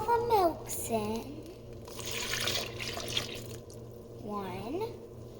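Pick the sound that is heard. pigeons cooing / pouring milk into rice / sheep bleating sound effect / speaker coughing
pouring milk into rice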